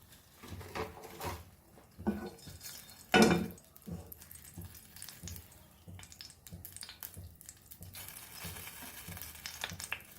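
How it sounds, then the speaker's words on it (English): Curry leaves in a teaspoon of hot oil crackle and sputter in a pan, with soft irregular sizzling pops and one louder burst near the middle, close and fairly quiet. "I'm adding few curry leaves to this"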